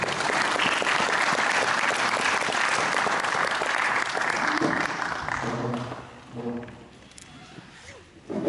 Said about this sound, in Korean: 여러분 큰 박수로 맞이해 주시면 대단히 고맙습니다